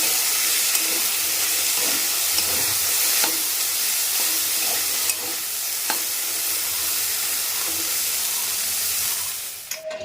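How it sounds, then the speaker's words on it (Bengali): Potatoes fry in a pan in a home kitchen, a bright, steady sizzle and hiss that stays loud and close for the whole stretch, with a few faint clinks and no voices. "আর দিকে এই যে আলু বটপটি দিয়ে ভাজা হচ্ছে"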